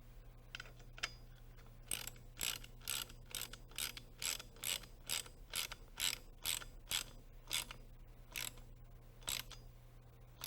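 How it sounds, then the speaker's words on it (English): A bolt is tightened on a helicopter control stick assembly with a ratchet, which gives a steady run of sharp metallic clicks, quiet and close, with brief pauses between strokes and no talking. "Then tighten the bolt as shown."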